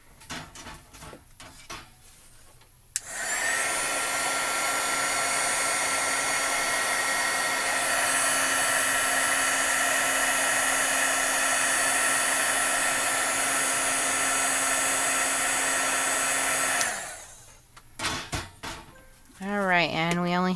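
A craft heat tool blows hot air over embossing powder on a card, a loud steady whir lasting about fourteen seconds, with a voice talking just before and after it.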